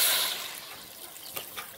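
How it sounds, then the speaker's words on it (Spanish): Water is poured into a pan of frying beef steak seasoned with oil, thyme and bay leaf, a brief loud hissing splash at first that quickly fades into faint sizzling and small pops. "Le voy a dejar caer el agua."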